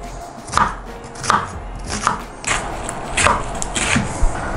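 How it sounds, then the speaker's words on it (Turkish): A knife chopping onion into small pieces on a board, six or seven sharp, evenly spaced thuds over a quiet background, close and without talk. "Ufak ufak kesmemiz gerekiyor soğanı."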